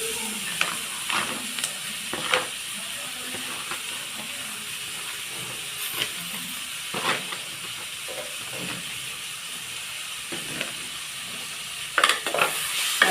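Chopped kozhuppa greens sauté in a pan for thoran, with a continuous close hiss and sizzle and intermittent scraping stirs.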